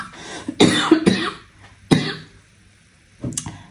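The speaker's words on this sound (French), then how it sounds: "j'en ai marre de cette toux" A woman coughs close to the mic in a few sharp, hoarse bursts, first a clustered fit, then a single cough, then another after a pause, loud against a quiet room.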